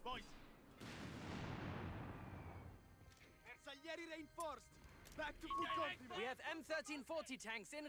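Grenade blasts in the World War II strategy game Company of Heroes 3: a loud crashing explosion with a long rumbling decay, followed by smaller pops under overlapping voice lines from game characters.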